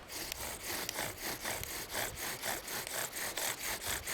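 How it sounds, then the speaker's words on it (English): Rhythmic back-and-forth grinding of a bow drill spinning on wood, a rasping sawing stroke repeating about twice per second, close and steady. "It's making that nice sawing sound."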